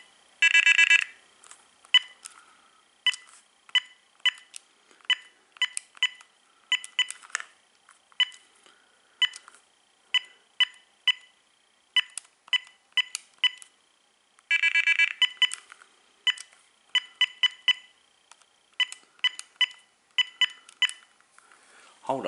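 Ringtones on an AT&T 9357 telephone play one after another as short, bright electronic chirps and trilling bursts in quick rhythmic patterns, clear and close, with brief gaps between.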